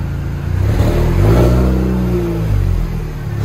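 A supercharged 2003 MINI Cooper S with a manual gearbox and a Scorpion axle-back exhaust revs up close, its engine note climbing and falling in a steady, loud run with no talking.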